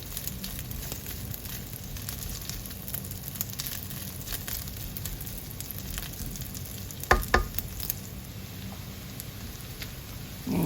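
Sausage fries in a pan without added oil, its fat rendering in a soft, steady sizzle with a couple of sharper pops and clinks partway through; no voices.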